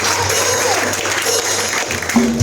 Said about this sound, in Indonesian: Berikan tepuk tangan yang meriah bagi Tuhan.